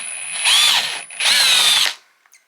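A power drill bores into a wooden wall stud behind drywall in two loud, close, high-pitched bursts of about a second each, with a brief pause between them and a short click after the second. No one speaks.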